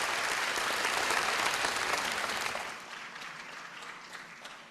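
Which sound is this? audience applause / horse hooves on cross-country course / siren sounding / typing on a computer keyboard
audience applause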